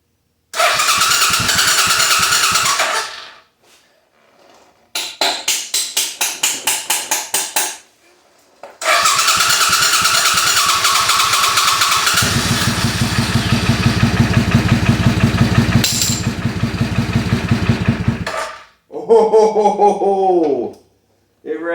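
A custom Suzuki Intruder bobber motorcycle engine cranks in short bursts with brief silences between, then catches and idles loudly and steadily, its low rumble running for several seconds before cutting out; a voice speaks briefly at the end.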